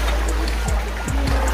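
Water rushes steadily down from the hills at Guchhupani, a loud, continuous close roar of flowing stream with a few faint splashes on top.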